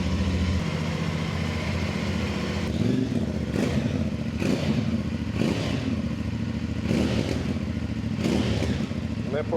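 A CF Moto parallel-twin motorcycle engine idles with a steady rumble, then revs sharply in several quick blips, loud and close.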